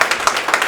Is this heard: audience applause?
yes